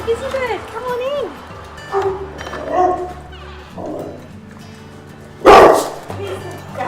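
A dog gives a single sharp bark near the end, after stretches of people chatting and small whimpers or yips in the room.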